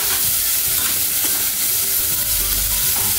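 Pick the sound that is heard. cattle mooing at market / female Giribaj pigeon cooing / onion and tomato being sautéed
onion and tomato being sautéed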